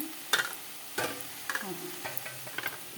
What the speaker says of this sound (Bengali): ভালো করে কষিয়ে নিই, হালকা হাতে কষা যাবে